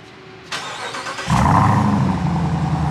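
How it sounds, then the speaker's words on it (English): A supercharged Dodge Durango Hellcat three-row SUV with a 700-plus horsepower engine cold-starts: a starter whir, then a loud roaring catch settling into a rumbling high idle, close by, with no talking. "Cold start."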